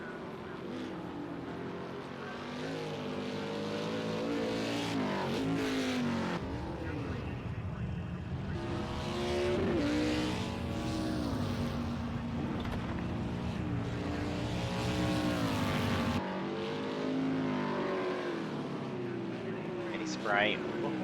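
Mustang Boss 302R Cup race cars roar around Donington Park in Project CARS 2, engines rising and falling through gear changes and passing cars, continuous under a commentator's voice.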